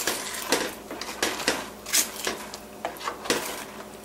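Sugar being stirred into rice pudding in a pot: a series of irregular clinking and scraping strokes of a utensil against the pot, close and moderately loud, with no talking.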